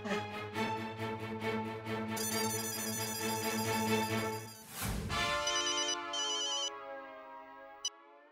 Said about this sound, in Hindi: मेहता साहब को फोन कीजिए आप।